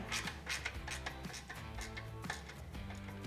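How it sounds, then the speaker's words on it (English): Exhaust head bolts being tightened on a 2007-2022 Harley-Davidson Sportster during an S&S Cycle SuperStreet 2:1 exhaust install, a quick series of close metallic ratchet clicks and tool rattles, fairly faint with no talking. "we'll go ahead and tighten up the head bolts first"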